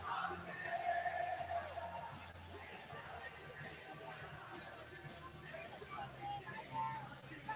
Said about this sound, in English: how's the London crowd? They're pretty good. They're pretty loud, actually.